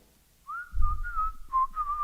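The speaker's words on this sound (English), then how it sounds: "Zach is whistling on the street" A person whistles a short, clear melody of a few wavering notes, close and alone with no talking.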